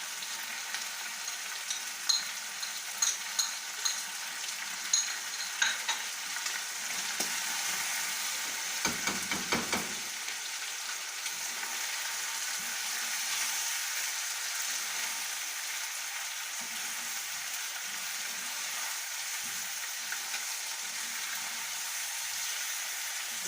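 Chicken karahi frying with tomatoes and green chillies, a steady close hiss of sizzling oil throughout, with a few stirring clinks early on and a brief scrape near the ten-second mark.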